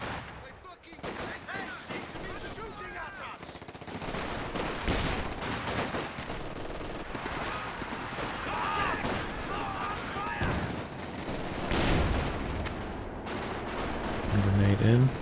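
Machine gun fire in the Company of Heroes 2 video game, with rattling bursts and explosions in a busy battle mix, as a commentator talks over the gunfire throughout.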